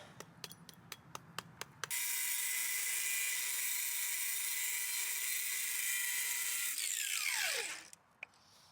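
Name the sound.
sandblaster cleaning a cast bronze elk antler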